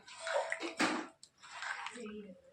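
Water splashing and pouring in short bursts into mango pulp for spicy aam papad, close and fairly soft, with brief pauses between pours.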